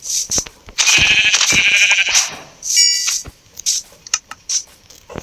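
A goat in the Minecraft video game bleats loudly several times in quick succession, with short sharp in-game clicks and sounds around it.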